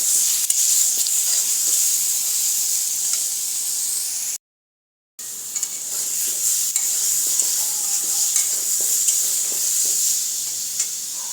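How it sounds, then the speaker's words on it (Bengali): Hog plums (amra) for chutney are stirred in a hot pan, a continuous sizzle with repeated scraping stirs, close and steady apart from a short silent break. "আমড়াগুলোকে নেড়ে নিয়েছি এদিক সেদিক করে।"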